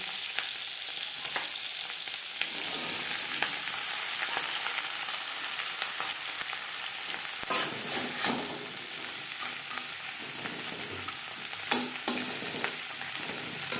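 Onion stalks fry in a pan over high to medium flame, a dense, continuous close-up sizzle with scattered crackles and occasional stirring scrapes throughout.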